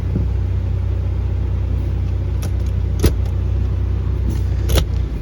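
A third-generation Toyota 4Runner with a four-wheel-drive conversion on a test drive, its steady low engine and road rumble continuous throughout, with a few brief clicks and rattles inside the cabin and no talking.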